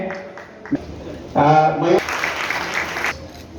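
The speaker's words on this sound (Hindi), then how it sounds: "एक बार जोरदार तालियों से आप इस शोभन पल के गवाह बने।" An audience at a political public meeting in Ghazipur breaks into applause, a brief burst of clapping that swells midway and fades, with a voice speaking around it.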